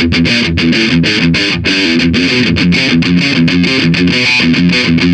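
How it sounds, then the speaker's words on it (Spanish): Heavy Metallica-style distorted electric guitar with the mids cut from the distortion, playing a tight, loud, chugging palm-muted riff with rapid choppy rhythmic stops, close and alone. "Metallica para sonar como Metallica, le saca los medios de la distorsión y suena algo más o menos así"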